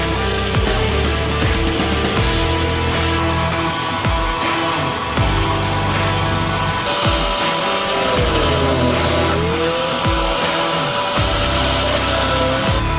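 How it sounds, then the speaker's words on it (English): An angle grinder cutting metal on a 1965 Ford F100 truck frame during a Coyote engine swap, a continuous loud high whine with rhythmic grinding surges as the cut progresses, with no talking. "we had to go ahead and get the angle grinder and start cutting"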